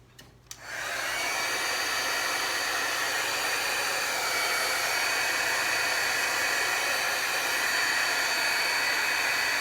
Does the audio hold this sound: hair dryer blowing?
yes